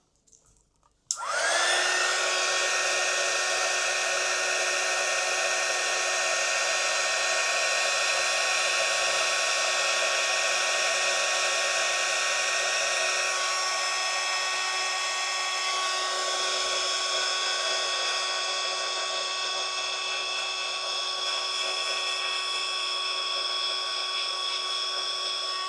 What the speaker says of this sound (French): je vais mettre quelques instants le heat gun